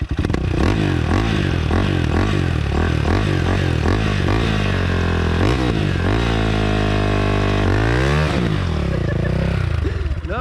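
A KTM 525 dirt bike engine revving hard and close, throttle blips rising and falling repeatedly over a rough idle, with a brief voice underneath.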